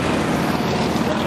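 Several aircraft engines starting up, a loud, steady roar with a dense rumbling drone, close by and continuous, no voices.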